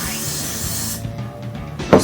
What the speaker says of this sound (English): And obviously just keep on spraying before and after.